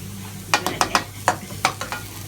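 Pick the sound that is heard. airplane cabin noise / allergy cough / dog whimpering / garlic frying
garlic frying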